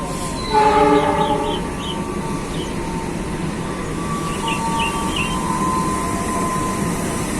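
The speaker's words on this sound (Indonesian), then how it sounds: "Kereta api Malabar pagi dengan lokomotif dinas CC 206-1382 di Bandung" The Malabar passenger train hauled by diesel locomotive CC 206-1382 rumbles past steadily in Bandung with a diesel engine drone, a brief loud horn blast near the start, and faint squeals over continuous rail noise.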